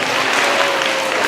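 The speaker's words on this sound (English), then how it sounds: "Can I get a round of applause?" Short, dense burst of audience applause during a live show, a steady uniform roar of many hands clapping with no pauses.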